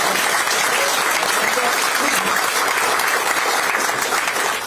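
An audience at a Democratic Party political rally in Yeonggwang breaks into dense, sustained applause, loud and even throughout with no break.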